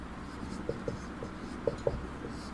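A pen writes an answer on paper during a Sanskrit lesson, giving a few short, quiet scratching strokes in small bursts over a faint room hum, with no talking.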